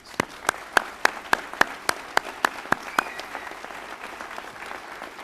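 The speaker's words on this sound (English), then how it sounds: "Deontay, please stand for applause." Audience at a Founder's Day ceremony applauding a scholarship recipient: a few distinct, evenly spaced claps ring out over roughly three seconds, then fade into a faint murmur of background noise.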